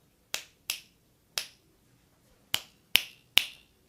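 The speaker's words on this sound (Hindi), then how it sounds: "देखिए मेरा चुटकी बज रहा है" Six crisp finger snaps ring out alone in an otherwise quiet room, close and sharp, spaced irregularly with a pause before the last three come in quicker succession.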